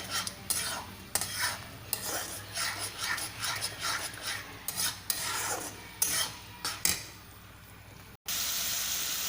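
Grated ash gourd fries in ghee in a pan while a utensil scrapes and stirs it in steady, repeated strokes, close and clear, with a soft sizzle underneath.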